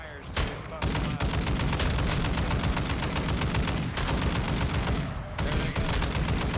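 A vehicle-mounted gun in Warzone 2.0 fires long sustained bursts, loud and close, in three stretches separated by brief pauses.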